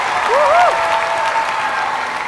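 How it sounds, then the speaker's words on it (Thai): Applause from a studio audience at a Thai televised singing contest, a steady broadband patter that is loud and close, with a brief tonal sweep early on over the clapping. "ขอเสียงปรบมืออีกครั้งนะฮะ"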